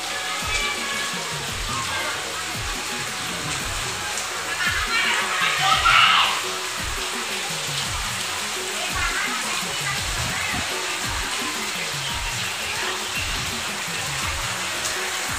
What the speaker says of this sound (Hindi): और देखो संडे के शाम हो गए और सामने पानी स्टार्ट हो गए